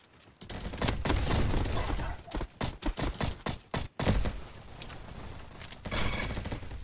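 Bursts of rapid gunfire from a shooter video game with pistols, loud clustered volleys in stuttering rhythm with short gaps, then trailing off into quieter shots.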